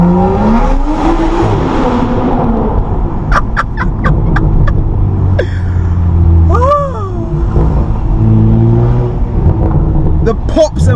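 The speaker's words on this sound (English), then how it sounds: "The pops and bangs." Straight-piped 440 bhp BMW M135i on air suspension driving through a short tunnel, its loud exhaust rumbling and echoing off the walls with a burst of sharp pops and bangs, while people talk over it.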